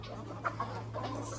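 Young Aseel chickens cluck softly at feeding time in a netted pen, a few quick, moderately close clucks over a steady low hum.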